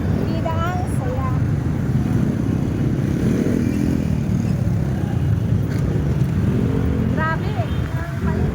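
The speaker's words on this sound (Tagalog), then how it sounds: "Grabe ang paligid. Maingay. Grabe sa sasakyan." Loud, constant street traffic with motorcycles and cars rumbling and revving close by, a continuous roar that buries faint voices in the background.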